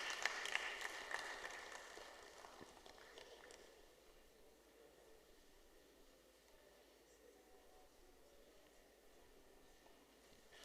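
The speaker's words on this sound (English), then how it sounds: "A round of applause for him as he makes his way to the stage." An audience at a university event applauds a speaker as he walks to the stage. The clapping is fairly distant and soft, strongest at first, then fades into quiet room noise.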